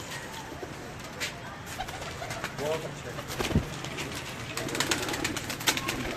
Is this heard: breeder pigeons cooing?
yes